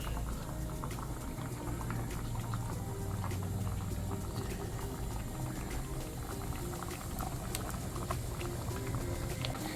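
A pot of coconut-based sardine fish curry bubbles and simmers steadily, with soft popping and gurgling throughout at an even, low level, no voices.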